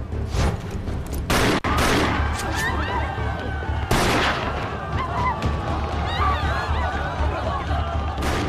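Rapid bursts of gunfire and sharp shots crack through a loud, chaotic action-film scene set in an anti-Japanese war story, dense and continuous with brief gaps, under background commotion.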